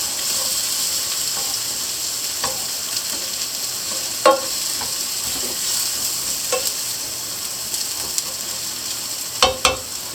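Garlic fries in olive oil with a continuous soft sizzle. A few clicks and small clatters of stirring or handling sit over it.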